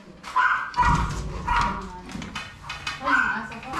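A dog barks and whimpers in short bursts nearby, with a person's voice mixed in among the barks.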